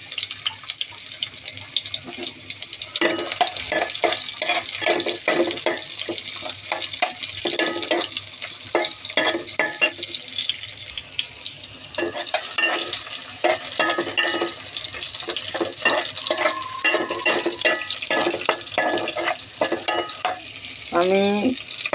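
Onions frying in oil in a home kitchen pan, a loud, steady broadband sizzle with scraping stirs and clinks throughout.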